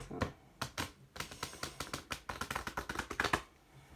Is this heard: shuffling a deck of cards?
yes